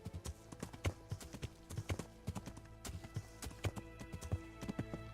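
Horse hooves clip-clop in a steady, close rhythm in the Kingdom Come: Deliverance video game, with sharp irregular strikes running throughout and no talk over them.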